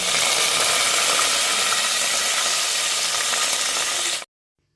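Green chillies and curry leaves sizzle hard in hot oil and masala, a dense, loud, steady crackle filling the pan for about four seconds before cutting off abruptly into silence.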